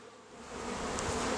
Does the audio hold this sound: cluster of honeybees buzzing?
yes